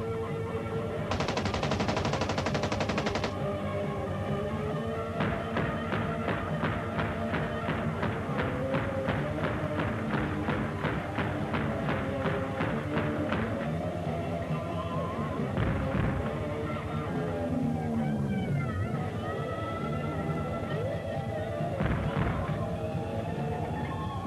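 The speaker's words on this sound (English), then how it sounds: "Now all my brothers are jealous because I got to shoot a machine gun" Machine gun fire in rapid bursts, with dense regular shot pulses through the middle of the stretch and a steady loud background throughout, with some voice-like tones mixed in.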